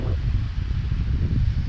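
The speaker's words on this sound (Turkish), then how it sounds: "Ya şu anda acayip bir rüzgar var." Strong wind blows along a sheltered coastal bay on the English Peninsula near Çeşme, a continuous low roaring rush buffeting the microphone with no voices.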